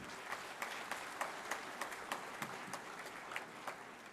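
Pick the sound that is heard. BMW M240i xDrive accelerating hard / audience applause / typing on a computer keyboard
audience applause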